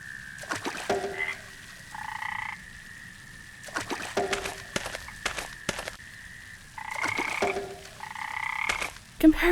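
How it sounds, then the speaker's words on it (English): Frogs croak in a pond in the video game Memoranda, repeated bursts of clear croaking calls in several groups, fairly soft and alone against a quiet background. "I always loved going to bed and hearing frogs sing in the pond"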